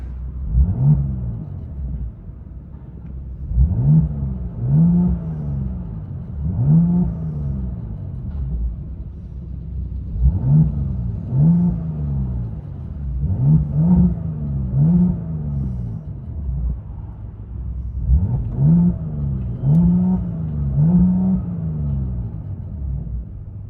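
Mercedes GLE 43 AMG 3.0L twin-turbo V6 with a muffler delete, heard from inside the cabin, revving in repeated rising and falling pulls, a deep droning rumble swelling in clusters over a steady idle.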